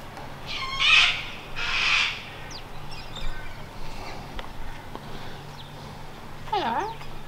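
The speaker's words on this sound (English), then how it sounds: "Got the captured birds." Caged birds in the beer garden behind a country hotel in Injune, Queensland, give two loud, harsh calls close by. Scattered softer chirps and squawks follow over a low outdoor hum.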